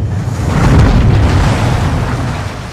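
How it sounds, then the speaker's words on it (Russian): A loud, sustained rumbling blast fills the whole stretch as the bridge entrance is blown open during a Call of Duty Modern Warfare 2 mission, swelling early and then holding a heavy, roaring low boom with debris-like noise. "взрываем вход на мостик!"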